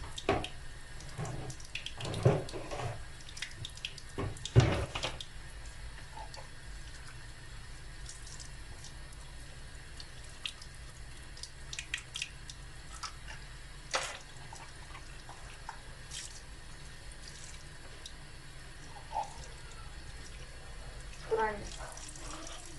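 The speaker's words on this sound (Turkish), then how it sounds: "Şu biberlerime de delik açıp yıkayayım." Peppers rinsed under a running kitchen tap for stuffing, a steady low water stream with a few louder splashes and clatters near the start and end, no talking.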